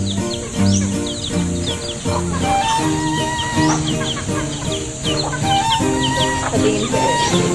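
Chickens cluck steadily and overlap in a busy, loud chorus, with sharp higher calls breaking through now and then.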